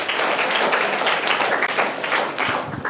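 An audience breaks into loud, sustained applause for a student who answered a quiz question correctly at a school event, dense clapping filling the whole stretch without letup.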